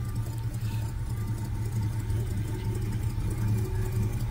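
A 1966 Chevy C10 pickup named Almond Joy idles while warming up, its engine giving a steady, close, even low rumble with no change in pace.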